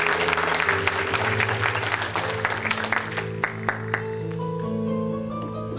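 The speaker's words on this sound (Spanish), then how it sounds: "denle un aplauso al Señor en esta hora" A church congregation claps in loud, dense applause that thins out into a few scattered claps, with sustained musical notes held beneath it.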